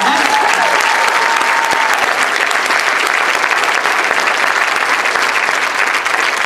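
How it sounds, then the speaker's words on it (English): Loud, sustained applause from a large audience fills the whole stretch, dense and even, with a faint tone briefly audible at the start. "you guys give those stories a big round of applause"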